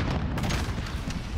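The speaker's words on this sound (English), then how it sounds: "Frag incoming. Flashbang out." A flashbang grenade detonates in a video game as one dense, loud boom that fills the whole moment with a rumbling roar, with no voices over it.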